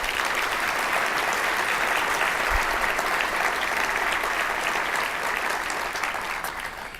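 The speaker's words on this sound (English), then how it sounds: "Let's give them another round of applause." A large audience at a medical congress opening session claps steadily for about seven seconds, a dense even wash of applause that tapers slightly at the end.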